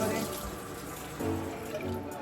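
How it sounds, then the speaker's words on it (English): Water runs steadily into a container, a continuous rushing splash with a slight surge partway through, close by. "we about to fill some water in here"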